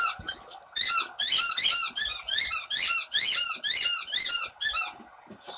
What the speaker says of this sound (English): Trying to pump up England's with squeaky bone.